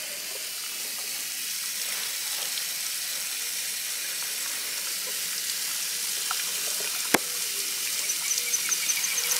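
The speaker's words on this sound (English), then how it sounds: "Now we just gotta water down these fire bricks." Water from a hose or tap splashes and hisses steadily over fire bricks being prepared for mortaring in an outdoor pizza oven build, a soft continuous spray with one sharp click near the end.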